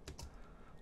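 Quick keystrokes on a computer keyboard, two or three crisp close clicks in rapid succession over faint room noise.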